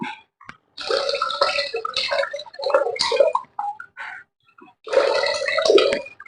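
Water is added to puliyinchi in a pan, heard as several separate bursts of splashing and bubbling with short quiet gaps between them, close and clear.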